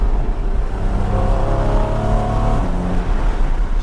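A Porsche Cayman 981 engine pulling hard through the revs, a loud continuous droning roar that climbs and then drops as a paddle shift comes in, heard from inside the car.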